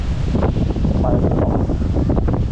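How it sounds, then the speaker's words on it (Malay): Strong wind buffets the microphone on a mountain trail through a mossy forest on Gunung Irau, a loud, steady roar with gusty swells and leaf rustle, no voices. "Dan angin memang kuat gila guys."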